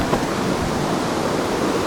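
Creek running slightly high near Mount Hope, West Virginia, giving a steady, even broadband rush of flowing water with no breaks, close and moderately loud, no voices.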